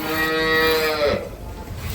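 A dairy cow moos once, a long, loud, close low call, followed by quiet farmyard background.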